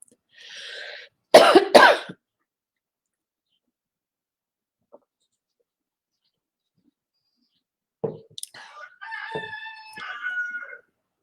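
A rooster crows twice, loud and close: a short burst at the start, then after a long silence a longer drawn-out cock-a-doodle-doo with harmonic calls near the end.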